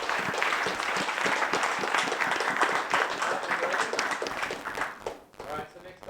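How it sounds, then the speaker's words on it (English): Audience applause at a Cyberspectrum meetup, a steady dense patter of many hands clapping close by that thins out toward the end, with a voice briefly audible over it. "one more round of applause"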